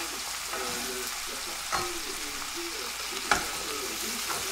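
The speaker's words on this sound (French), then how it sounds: "on fait revenir de chaque côté pour donner pour cuire la viande qui est à l'intérieur" Stuffed cabbage paupiettes with meat inside browning in a pan: a soft, steady sizzle with a couple of brief clinks or turns, fairly quiet and without voices.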